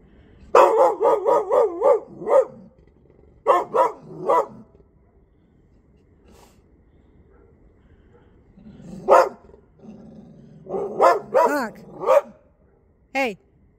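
A dog barks in several rapid bursts, loud and close, with pauses between volleys and some higher yelping barks toward the end.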